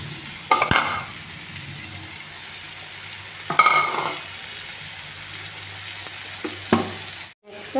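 Chopped green chillies drop into hot oil in a pan, giving a soft continuous sizzle broken by a few sharp bursts of crackling and spatula scrapes spaced a few seconds apart.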